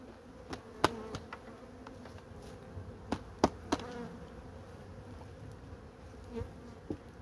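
Honey bees from weakened, varroa-afflicted hive colonies buzz softly around frames pulled from the hives, a faint continuous drone broken by a few sharp wooden clicks and knocks as the frames are handled.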